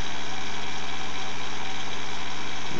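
An experimental three-phase motor running on single-phase power spins a wheel, giving a constant loud mechanical hum and whir with no change in pitch throughout.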